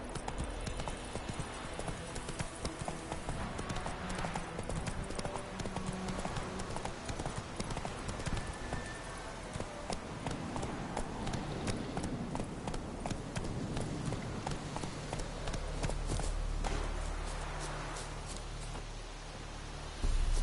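A horse's hooves clip-clop steadily at a walk across ground in a PS4 video game, with faint rustling and a soft game soundscape behind them.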